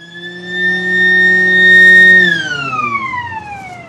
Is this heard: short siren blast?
yes